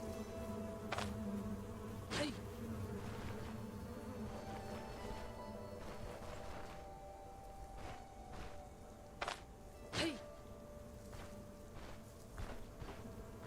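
Bees drone in a low, steady buzz through Stoneshard's quiet outdoor ambience, joined by soft footsteps and a few sharp thumps, all faint and distant.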